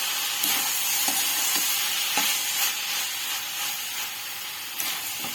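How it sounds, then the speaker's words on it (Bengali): Vegetables for spring rolls stirred in a pan with ketchup, soy sauce and vinegar, giving a continuous hissing sizzle and steam broken by soft, regular scrapes of the spoon. "দিয়ে সবগুলো ভালোভাবে একটু নাড়াচাড়া করে নেব"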